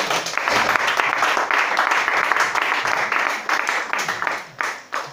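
A church congregation at a worship service applauds the Lord, a dense, loud, sustained burst of many hands clapping together that thins slightly toward the end.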